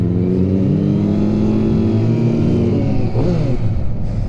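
A motorcycle engine revs and pulls away on a ride to a Cars & Coffee meet, a loud, close, sustained drone rising and shifting in pitch, heard alone.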